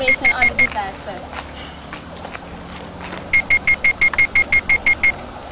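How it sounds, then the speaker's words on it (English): A tracking device gives off rapid, evenly spaced electronic beeps, a short burst of four and then a longer run of about ten, loud and close, with background noise and movement between the bursts. "I'm getting a beep."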